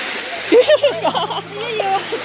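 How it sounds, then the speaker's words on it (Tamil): Continuous rushing water from a waterfall in Manjolai fills the background while people talk in Tamil nearby over it. "இவ்வளோ அழகான அருவியில்"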